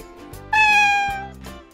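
A single drawn-out cat meow, close and clear, rising then falling in pitch and standing alone against a quiet background.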